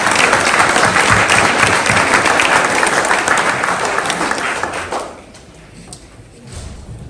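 Audience applause at a mayor's New Year greetings ceremony in Pomponne, honouring the town's associations: a loud, dense burst of clapping that fades out after about five seconds, followed by a few scattered claps.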